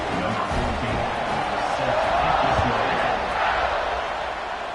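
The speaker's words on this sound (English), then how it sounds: "this crowd now ready to get behind them" A football stadium crowd at the Washington vs Ole Miss game roars steadily as the kickoff nears, a broad, continuous wash of cheering that swells slightly in the middle and never drops away.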